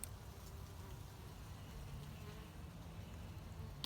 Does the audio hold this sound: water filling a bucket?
no